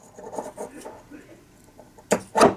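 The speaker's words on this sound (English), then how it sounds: "since that was not a tight fit, the rotor drops in just like that" A DENSO alternator rotor from a Jaguar or Volvo drops into a new, loose-fitting bearing: faint rubbing and scraping, then two close, solid clunks near the end.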